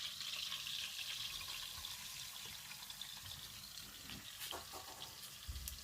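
Onions fry in a pan for curry, giving a close, continuous sizzling hiss with faint clatter and a light knock near the end.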